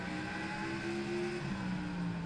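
A Toyota NASCAR race car at a FARCA Premier Southern National event, its low engine drone holding steady and fairly loud through the whole stretch.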